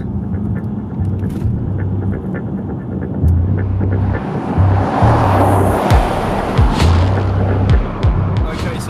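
A 2015 L405-generation Range Rover driven in sport mode with paddle-shift gear changes gives a steady, loud, close engine drone and road roar that swells slightly partway through, with no talking.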